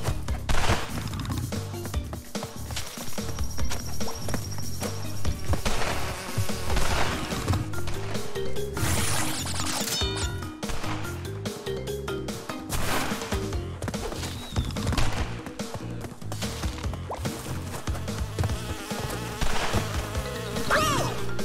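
Buzzing bee in the Crash Bandicoot 2 N. Sane Trilogy video game, a steady insect drone running throughout amid busy game music and effects.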